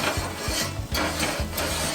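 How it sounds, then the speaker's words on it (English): Wire grill brush scrubbing the grates of a barbecue grill after burgers come off, a rapid series of harsh rasping back-and-forth strokes with brief scraping bursts, close and fairly loud, no voices. "we're going to take that grill brush, and we're going to brush those grill grates real quick"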